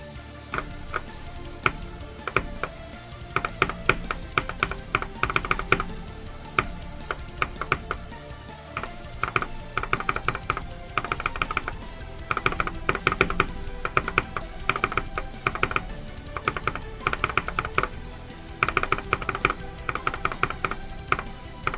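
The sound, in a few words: typing on a computer keyboard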